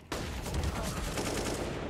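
Sustained automatic gunfire sprays fill a Counter-Strike competitive match, dense rapid shots layered with game effects running continuously and loud from start to end.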